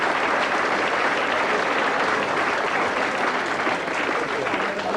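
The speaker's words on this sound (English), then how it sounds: "if you want to clap for shit like that" A comedy club audience applauds steadily and loudly, a dense wash of clapping that holds at an even level throughout.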